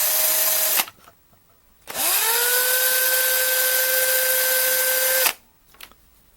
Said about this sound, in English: So just drill little by little and remove some materials each time you do this.